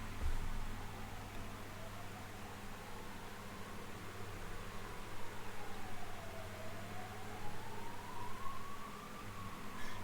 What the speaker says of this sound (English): Ambulance is on the way.